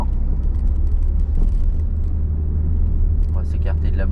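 A learner driver's car accelerates on a town road, its engine giving a steady close rumble throughout, with an instructor's voice speaking briefly near the end.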